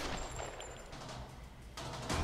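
Gunfire in the video game Tomb Raider (2013), a faint dense stretch of shots and rumbling game noise over a steady background, with a louder burst at the very end.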